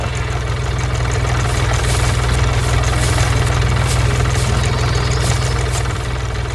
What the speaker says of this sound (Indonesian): Traktor merah bersama mesin pengumpul jerami sedang bekerja keras